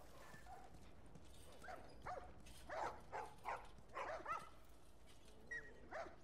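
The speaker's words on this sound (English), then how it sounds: "Oh, there's the dog. I was like, where's the barking coming from?" A dog in the video game The Last of Us barks in a series of short, sharp woofs, some doubled, at moderate distance over faint background ambience, with no speech.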